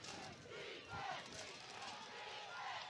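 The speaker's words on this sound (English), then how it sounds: "Hear the crowd get alive again." A crowd at a high school football game between Hallsville and Bowling Green roars and cheers from the stands, a distant, continuous swell of voices.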